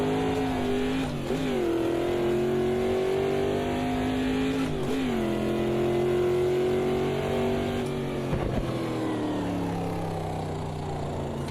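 A race car engine in the sim racing game Automobilista 2 drones loud and steady, its pitch climbing and then dropping sharply at several gear shifts along a long stretch, with no talk over it.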